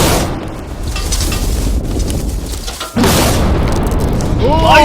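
A TNT charge set off by pressing a button, heard as a loud wind-buffeted boom that swells abruptly midway and keeps roaring, with high whistling debris or wind tones near the end.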